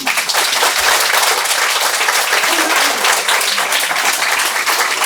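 An audience at the closing ceremony of an academic tribute gives a short burst of applause after a speech, a loud, dense stretch of many hands clapping that continues at an even level throughout.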